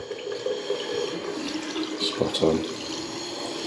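Water flows from a self-closing push-button tap into a newly fitted bathroom basin, a moderate running splash with a few brief bursts, while a person speaks briefly.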